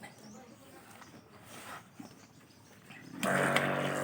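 A battery-powered agricultural sprayer pump switches on and runs with a loud, steady whirring hum that starts abruptly near the end, after quieter background sounds.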